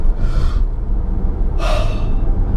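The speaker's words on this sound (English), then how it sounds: "So I'm breathing fresh air" Two sharp, breathy inhalations, close to the mic, separated by a pause, over a low rumbling background.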